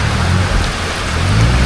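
Steady heavy rain pours down at an army camping ground in Mendez, Cavite, a dense continuous hiss with low rumbling beneath and no voices.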